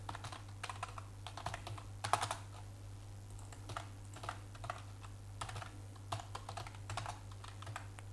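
Fingers type steadily on a computer keyboard, a quiet run of irregular clicks and keystroke bursts with brief pauses, faint and close over a low steady hum.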